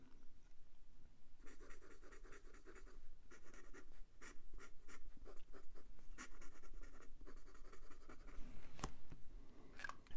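A PenBBS fountain pen with an architect grind nib scratches across paper in bursts of close, dry strokes, the nib giving noticeable feedback, with brief pauses between lines and no talking.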